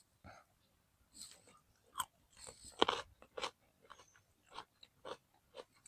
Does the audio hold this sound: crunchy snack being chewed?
yes